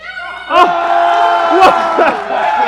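Crowd cheering and whooping erupts at the end of a celebrity pickleball match, a loud burst of mixed voices that swells, dips and rises again, with people talking over it.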